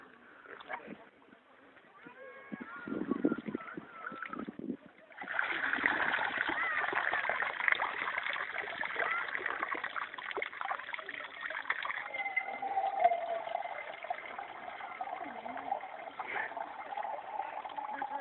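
Water splashing and trickling in a forest, collected with a hat, first in short bursts and then a steady pouring rush, with people talking nearby.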